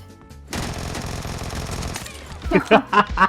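A Vector submachine gun fires in PUBG Mobile, a rapid dense burst of loud shots lasting about a second and a half, then several sharper separate bangs, with a voice speaking over the shooting.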